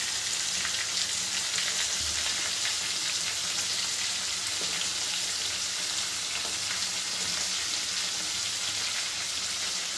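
Butter sizzles steadily in a pan beside chicken stock for lemon garlic butter chicken, a dense bright frying hiss holding at an even level for the whole stretch with no talking.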